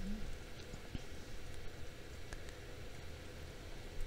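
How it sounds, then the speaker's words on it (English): Steady rain falls in a dark wintertime video game scene, a soft, even hiss of patter continuing throughout at low volume. "It's wintertime, it's dark,"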